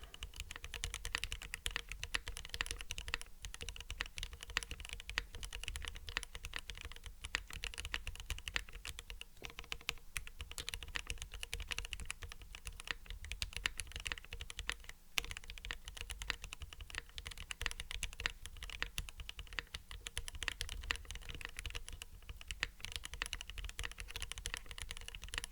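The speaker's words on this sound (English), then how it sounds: "Okay, slow typing aside, a little bit on the muted side." Slow typing on a Stormtrooper-themed Space80 mechanical computer keyboard, soft muted key presses in an uneven continuous patter, quiet and close with no talking.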